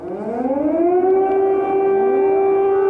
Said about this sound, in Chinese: 市区的独立广场空袭警报也搁再响起